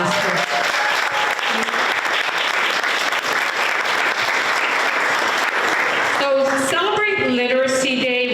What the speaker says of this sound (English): So how about a round of applause for